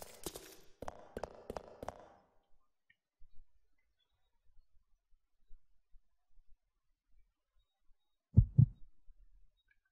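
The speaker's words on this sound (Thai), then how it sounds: "เวลาขึ้นบางฉากจะมีเสียงหัวใจ" Heartbeat sound effect from the video game Resident Evil Code Veronica X: a few quick thumps near the start, quiet afterwards, then a close, loud double thump near the end.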